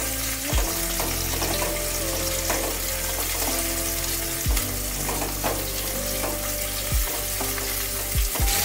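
Bitter gourd pieces sizzle and fry in hot oil in a wok, a steady loud crackle broken by several sharp stirring knocks and scrapes, with no talking.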